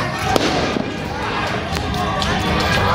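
Firecrackers thrown by rioting youths at a police station in Bekasi pop and crack in scattered bursts amid a noisy crowd, with dull thuds and voices layered throughout.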